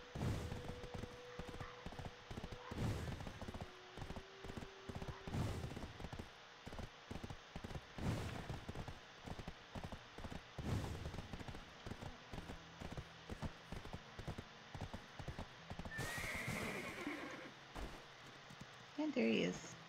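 Rhythmic hoof clip-clops of a horse trotting in Black Desert Online, with game sounds and occasional speech mixed in over a busy background.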